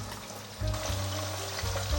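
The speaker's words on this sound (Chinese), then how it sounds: "油热了，把腌好的杏鲍菇放进来煎。" Marinated king oyster mushroom slices pan-frying in hot oil, a steady crackling sizzle that swells louder as more pieces hit the pan, over a low kitchen hum.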